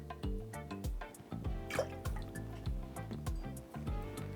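Orgeat syrup poured into a cocktail mix of rum and lime juice, a close gurgling trickle with bubbly glugs and drips, heard alone.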